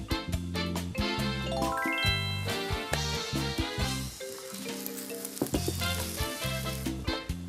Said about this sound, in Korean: 자 이제 부치기만 하면 되는 겁니까?